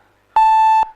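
A quiz contest timer sounds one loud, steady electronic beep lasting about half a second, clean and alone against near silence.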